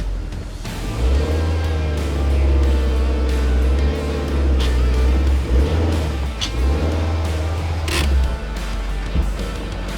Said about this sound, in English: So let's get the car up in the air on some ramps